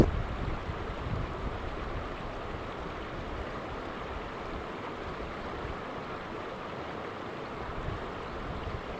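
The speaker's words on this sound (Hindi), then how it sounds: "तो आइए नदी करते हैं पार।" A river flows steadily as it is crossed, making a continuous rushing wash of water that stays even and moderately loud for the whole stretch. Wind noise mixes in and no one talks.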